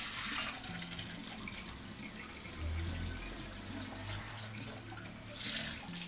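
Cold tap water streams steadily over freshly boiled macaroni draining in a strainer in a home kitchen, a continuous close splashing rush with no talk.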